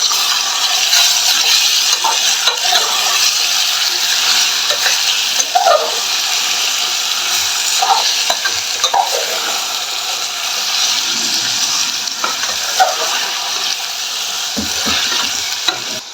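Chicken pieces marinated in turmeric and salt sizzle steadily in a pan with browned onions, with continuous frying hiss and scraping stirring strokes throughout.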